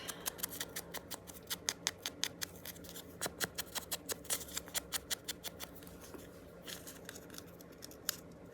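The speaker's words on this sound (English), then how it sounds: "Just these scissors are real sharp." Sharp scissors cut a washi sticker, giving a quick series of crisp snips in an uneven rhythm with brief pauses, close and quiet, over a faint background hum.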